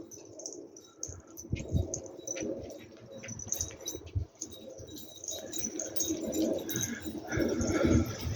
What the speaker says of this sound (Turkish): Bir anda bizim kuşlar pırladı.